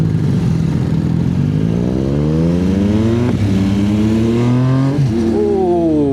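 A Yamaha MT-09 motorcycle engine revs up loudly and close, its pitch climbing through rising gear pulls, dropping briefly at shifts before climbing again.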